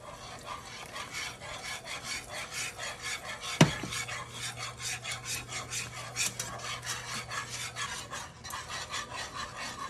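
A whisk scrapes rhythmically through heavy whipping cream being stirred into a mac and cheese sauce in a pot, a steady rasping stroke repeating about twice a second, close and continuous, with one sharp clink partway through.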